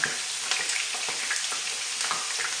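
Potatoes sizzle and crackle steadily in a hot pan, a constant bright hiss dotted with small pops, close by and with no talking.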